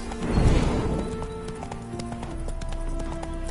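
Horse hooves clip-clopping in The Witcher video game, a steady rhythm of hoof strikes on the ground with a louder burst early on, close and clear over faint background game ambience.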